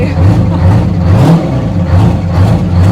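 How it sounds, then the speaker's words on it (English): A 1000-horsepower rat rod weighing over 11,000 pounds revs loudly at close range at a rod run, its engine surging and falling in repeated throttle blips with a rough, rumbling low end. "They want to see engines like this turned on."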